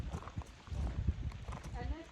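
A mare named Dixie being loaded into a horse trailer, her hooves clopping in an uneven walking rhythm at close range, with some low talk alongside.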